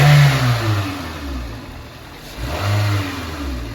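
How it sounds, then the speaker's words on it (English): A car engine revs up in two strong swells, dropping back toward idle in between, heard close with no talk over it. "we'll see what happens when Zach revs"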